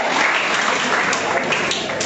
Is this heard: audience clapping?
yes